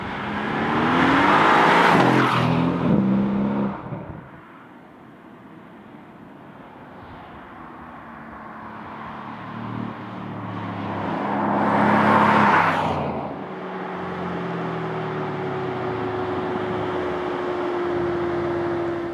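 A facelifted Mercedes-AMG C63 S Coupé accelerates at full throttle, its engine roaring up through rising revs in two strong surges with a quieter steady drone between and after them.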